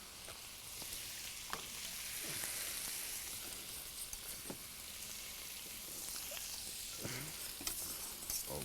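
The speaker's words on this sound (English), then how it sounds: "I'm going to add my mushrooms so they can start cooking in with my gravy" Mushrooms cook in gravy in a pan with a steady, close sizzle and bubbling, broken by occasional stirring scrapes and clicks, with no talking.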